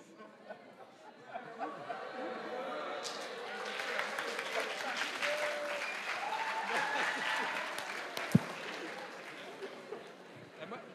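An audience at a French round-table talk gives scattered applause that swells into moderate, fairly distant clapping mixed with chatter and a little laughter, with one sharp knock near the end.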